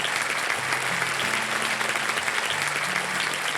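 Studio audience claps in a steady burst of applause on a television quiz show, dense and even throughout, with faint musical tones underneath.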